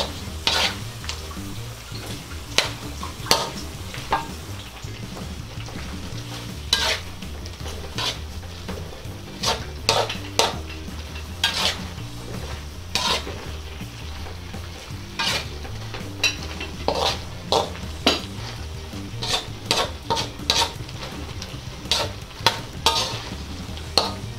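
Squid adobo with coconut milk and green chili stirred in a pan, a steady simmering sizzle under repeated clear scrapes and knocks of a spoon against the pan, close and fairly loud throughout.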